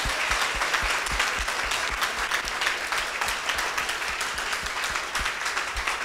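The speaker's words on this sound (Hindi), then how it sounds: "जोर से तालियां बजाइए परमेश्वर के लिए" Steady, dense applause from a church congregation fills the hall, many hands clapping loudly and continuously with faint voices mixed in.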